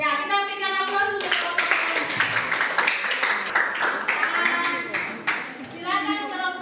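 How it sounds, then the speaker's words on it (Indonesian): A classroom audience of students breaks into steady, dense clapping during a school lesson, loud and continuous for several seconds with faint children's voices mixed in as it tapers off. "kita berikan aplaus untuk"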